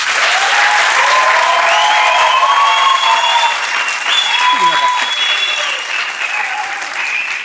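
Studio audience at a Turkish comedy sketch show applauding and cheering loudly and steadily, with whistles and shouted voices rising above the dense clapping, which eases slightly toward the end.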